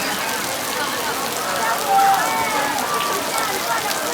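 Steady rain hisses down during an outdoor talk show event, a continuous wash of falling water with people's voices mixed in.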